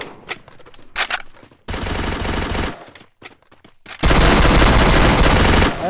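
Automatic weapon fire in the Free Fire battle royale game, with rapid bursts of gunshots broken by short pauses, then a long loud continuous volley, close and punchy with no talk over it.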